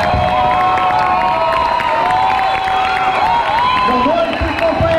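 A crowd at a political rally cheers and claps for the mayor, a loud continuous roar with whoops and shouting voices filling the whole stretch.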